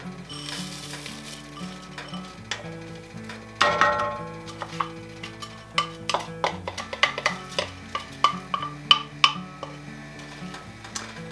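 Chicken vegetable soup with carrots and riced cauliflower cooking in a pot, with a spoon scraping and clinking against the pot in quick irregular taps over steady background music.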